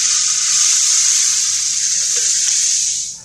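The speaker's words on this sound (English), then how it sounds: "we're going to run slag abrasive, it's 2040, through our homemade metering device" Steady hiss of 20/40 slag abrasive pouring through a homemade bottle metering device, a continuous granular rush that holds even for about three seconds, then tapers off.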